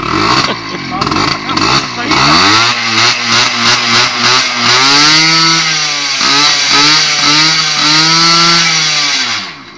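Scooter engine starting and running close by, loud revving that rises and falls in pitch before settling into a sustained buzzing drone, with voices talking over it.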